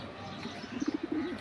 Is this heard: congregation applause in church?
no